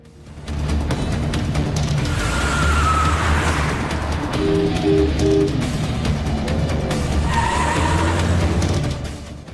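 A car speeds off in pursuit of a bus. The engine roars loudly and continuously for several seconds, with tire squeal and rising and falling engine tones over a rumbling low end before it eases off.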